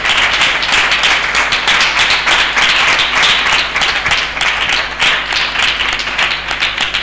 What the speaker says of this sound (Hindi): हम जोरदार ताली से उनका स्वागत करें